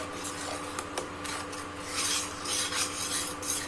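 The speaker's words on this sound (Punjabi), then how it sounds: "ਹਲਦੀ ਮਸਾਲਿਆਂ ਨੂੰ ਚੰਗੀ ਤਰ੍ਹਾਂ ਮਿਕਸ ਕਰ ਲਾਂਗੇ 2 ਤੋਂ 3 ਮਿੰਟ ਤੱਕ ਪਕਾਵਾਂਗੇ" A spoon stirs turmeric, red chilli and spices in a pan for black chickpea curry, giving a steady rasping scrape of irregular strokes, close and moderately loud with no talk.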